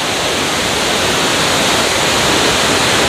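A mountain stream near Darjeeling rushes in a dense, steady, loud wash of broadband noise, close by and without any voices.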